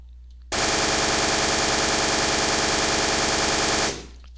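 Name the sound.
DP-28 machine gun firing, Flan's Mod in Minecraft video game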